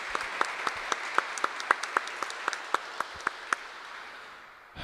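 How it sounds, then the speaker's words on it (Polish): Audience applause for a pastor at an inaugural concert, a steady wash of clapping with one or two individuals clapping sharply and rhythmically on top, tapering off near the end. "Jeszcze raz proszę Państwa o brawa dla pastora."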